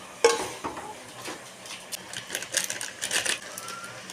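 Chicken masala being stirred in a pot for a country chicken curry, a quiet, uneven series of scraping and clicking strokes, faint and close, with no talking.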